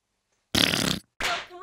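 Two loud, close farts, a long broad blast followed after a brief pause by a shorter one that trails off, with silence before.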